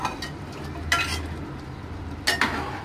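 Boiled mutton is added to a simmering masala gravy for a Hyderabadi Mahekhalya and stirred, giving a low steady sizzle with two brief scraping clatters of a spoon against the pot.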